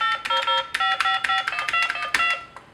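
A rapid series of telephone keypad tones, distinct beeps pressed one after another in quick succession, close and clear, dialed on a 314A trunk test set.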